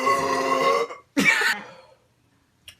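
A man burps after drinking soda: one long, loud, throaty belch, then a shorter second burp after a brief gap, followed by quiet with a faint noise at the end.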